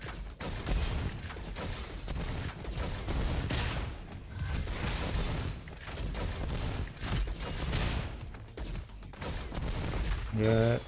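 Flare gun firing in the video game Roboquest, a loud, busy stretch of repeated gunfire bursts and mechanical clatter that runs throughout, mixed with other game effects and occasional talk.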